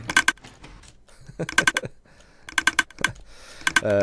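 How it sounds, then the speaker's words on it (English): Rapid bursts of frenetic clicking from an automatic item sorter in Minecraft, several quick clusters of sharp clicks separated by brief pauses, close and loud with no talk. "let's just try it out with 1 item, and you should hear a frenetic clicking"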